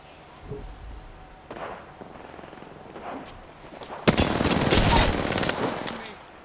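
Apex Legends gunfire: a few scattered single shots early on, then a sudden loud burst of rapid automatic fire that runs for over a second before trailing off, with faint game sounds around it.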